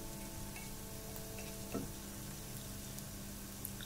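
Masala for chicken tikka masala frying in a pan: a soft, steady sizzle throughout, with one brief clink of a utensil partway through.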